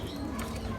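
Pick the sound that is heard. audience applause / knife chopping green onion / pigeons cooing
pigeons cooing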